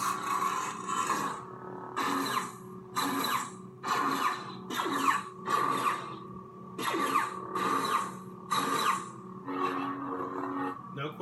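Lightsaber ignitions and power-ons from 'The Oldest Padawan' saber sound font: a string of about ten sharp, crackling bursts, each roughly a second apart, rising over a steady electric hum that runs the whole time.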